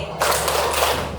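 A group of children claps together all at once, a loud dense burst of clapping that starts abruptly and lasts about a second before fading.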